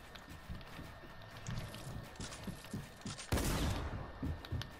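Gunshots in a video game, a rapid series of quick cracks and pops with clattering mechanical noise, ending in a louder burst of fire, no talking.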